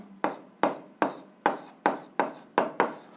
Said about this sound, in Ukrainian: записуємо відповідь, пишемо відповідь